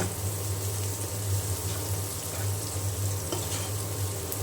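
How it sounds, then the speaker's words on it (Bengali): Onions and green chilies fry in a pan for shrimp curry, giving a steady, dense sizzle with a continuous low hum underneath and no pauses. "এখানে আমি পেঁয়াজ আর কাঁচামরিচ দিয়ে দিয়েছি চিংড়ি মাছ রান্না করব পেঁয়াজটা ভালো করে ভেজে নিয়ে"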